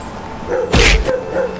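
A single loud, sharp dog bark rings out close by, with quiet background noise before and after.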